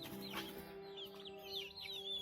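Chickens cluck and chirp softly over a low steady hum, several birds calling in short irregular bursts.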